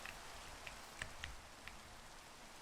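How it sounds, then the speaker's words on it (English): Rain falling in a video game, a steady soft hiss of drops throughout with a few brighter droplet taps standing out, faint and continuous with no talk. "Oh, this dumb rain!"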